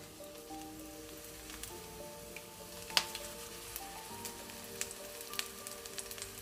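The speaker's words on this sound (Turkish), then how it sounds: "Hepsini tek tek kızartacağız." Steady sizzling of eggplant slices frying in hot oil, with scattered crackles and pops throughout, close and fairly quiet.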